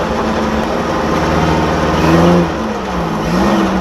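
A 1000cc Suzuki Jimny off-road car accelerating in first gear, its engine droning steadily and rising briefly in pitch and loudness before easing and climbing again, heard close and fairly loud throughout.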